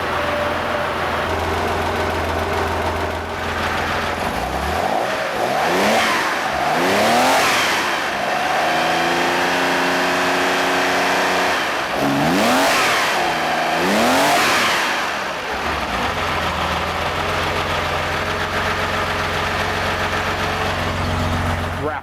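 A two-stroke engine on freshly rebuilt carburetors runs steadily and loud, its pitch sweeping up in repeated revs before settling back to a sustained drone, with no talking.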